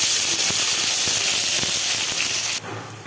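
Onion and garlic hit hot oil with cumin in a kadai, setting off a loud, dense hiss with a few soft clicks, then the sizzle drops suddenly to a quieter frying sound near the end.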